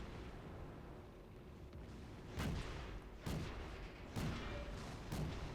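Artillery guns in the tank game World of Tanks fire four spaced, sharp booms, each a sudden heavy blast over a low steady background rumble.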